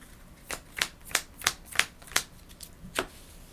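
Playing cards from the Marvel Legendary deck-building game are flicked and set down on a table, roughly nine crisp, close snaps at an uneven, steady pace with no speech over them.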